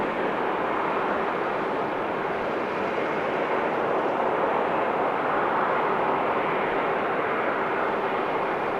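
Aircraft noise at Amsterdam Schiphol Airport forms a loud, steady broadband roar with no breaks, heard from nearby without any voices.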